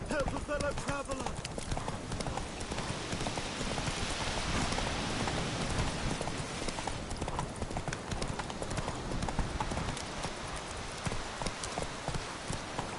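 Roach, the horse in The Witcher 3, gallops in steady rapid clip-clop hoofbeats across the whole stretch, with rain-like hiss and game ambience behind and a voice speaking over it.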